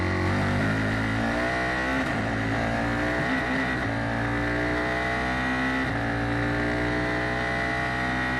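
A Formula 4 race car engine at the Circuit of the Americas drones loudly and continuously, pitch rising and dipping as the throttle is modulated through a long sequence of S-bends.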